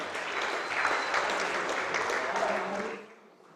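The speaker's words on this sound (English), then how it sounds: "Let's give them a big round of applause as they hold their national flag." A large audience at the opening ceremony of an under-23 world squash championship applauds steadily for about three seconds as a team holds its national flag, a dense wash of clapping that fades out at the end.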